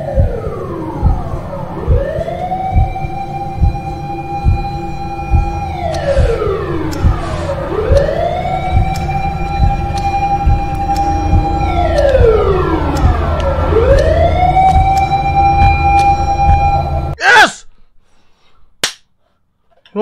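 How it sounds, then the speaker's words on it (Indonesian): A siren wails in the video game The Karaoke, three long rising and falling sweeps over a steady rumbling rhythm, loud and close, ending in a sharp burst followed by near silence. "Sirine berbunyi!"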